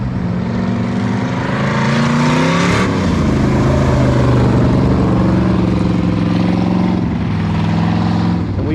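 A loud, close hobby stock race car engine roars steadily, its pitch rising and falling as it laps a wet, sloppy track.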